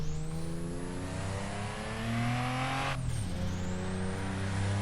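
A high-revving Toyota Supra engine in the racing game Assetto Corsa screams steadily at the Mugello track, briefly dropping pitch on a gear shift before climbing again, loud and close with no talking.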